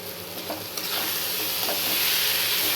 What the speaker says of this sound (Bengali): এই আলু গাজর দিয়ে একটু কষিয়ে তারপরে তোমার সামান্য জল দেবো